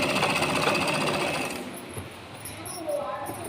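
A sewing machine stitches cotton lining cloth onto a dress, a steady close mechanical whir for the first half that then fades to quieter, intermittent movement.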